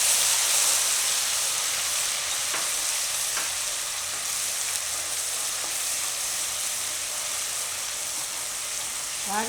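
Bay leaves and cut red chillies sizzle steadily in hot oil for a Gujarati corn-methi curry, a loud continuous frying hiss with faint stirring clicks throughout, no talk.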